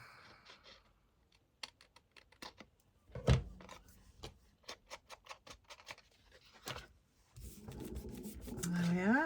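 Paper for a handmade craft tag is trimmed in a quick run of sharp, close snips and clicks, separated by short quiet gaps, ending in a burst of rustling.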